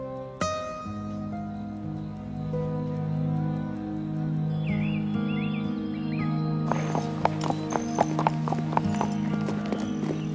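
A horse named Diablo clip-clops at a walk over hard ground, its hoofbeats growing sharper and more distinct partway through, over a music backdrop with no voices.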